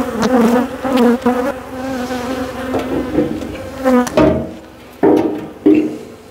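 Honeybees buzzing loudly and close around a hive while a swarm is being made on the Mediterranean coast, a dense continuous hum with a few sharp knocks and bumps near the end.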